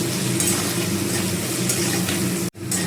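Potato pieces with turmeric and salt fry in an oiled pan, giving a steady loud sizzle with stirring scrapes and a brief break near the end.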